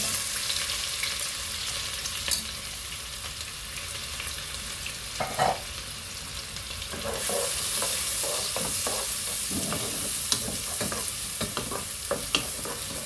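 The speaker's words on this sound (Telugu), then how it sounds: "చూడండి, కాగింది, ఉల్లిపాయలు వేస్తున్నాను" Onions dropped into hot oil, a quieter hiss that swells into a louder steady sizzle partway through, broken by clinks and scrapes of stirring, with no talk.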